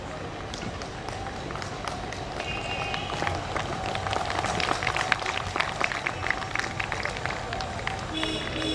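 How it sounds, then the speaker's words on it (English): An audience at a New Year celebration breaks into dense, sustained applause that swells and stays steady, a crowd of many hands clapping with some murmured voices underneath. "Ladies and gentlemen, kindly applaud."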